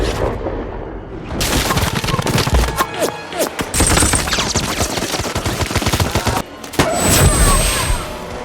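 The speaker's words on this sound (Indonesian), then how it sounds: "Di dalam operasi ini terjadi baku tembak antara tim Gang dan pasukan nakar dan pasukan bos nakar" Rapid bursts of gunfire ring out in a jungle firefight between an anti-narcotics team and drug lord forces in the Golden Triangle, dense and loud with booming impacts throughout.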